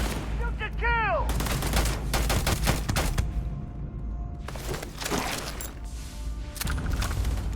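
Rapid bursts of gunfire from the space game Starfield crackle through a firefight, dense volleys clustered early and again midway, with a voice speaking over parts of the action.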